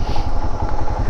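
A motorcycle engine runs steadily and close by, its low pulsing exhaust beat rumbling evenly through a short stretch with no voices.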